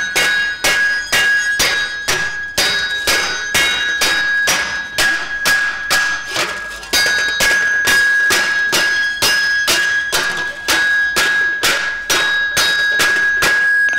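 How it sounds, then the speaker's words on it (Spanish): Hammer blows forging metal pieces at a forge, a long regular series of sharp ringing strikes about twice per second, loud and close, with a short pause midway and no speech. "A base de golpes se le va dando volumen a las piezas."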